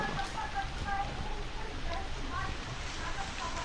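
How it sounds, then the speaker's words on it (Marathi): Steady monsoon rain patters on surfaces close by at a Konkan farm during rice transplanting, a continuous hiss with scattered drops, while someone talks faintly underneath. "रात्रीपासून असा रेपरी पाऊस चालूच आहे"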